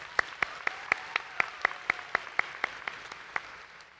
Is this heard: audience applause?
yes